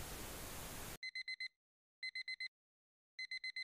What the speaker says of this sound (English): You heard the familiar disgusting sound of the alarm clock